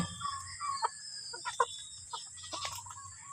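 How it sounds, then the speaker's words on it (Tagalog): Native chickens clucking in a backyard flock just after feeding: several short, scattered clucks and squawks at moderate distance over a low background hum, with no talk. "tungkol dito sa mga alaga kong manok"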